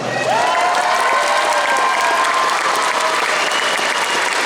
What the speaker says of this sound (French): faites du bruit pour Lilou Chris.